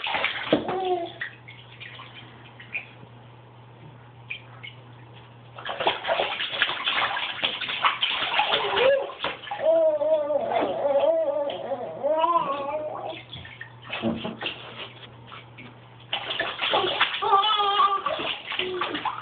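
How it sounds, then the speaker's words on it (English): Water sloshing and splashing in a bathtub, coming in uneven bursts with pauses between, while a child babbles and vocalizes over the splashes. "Splish, splash, splash."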